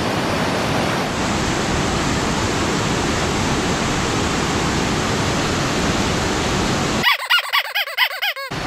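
A waterfall on Koh Chang island roars as a dense, steady wash of rushing water, close and loud throughout, before cutting off abruptly near the end.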